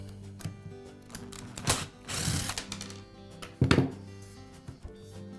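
A screw is backed out of the rear housing of a DeWalt angle grinder, giving a few short ratcheting clicks and scraping bursts separated by quiet pauses, close and fairly faint.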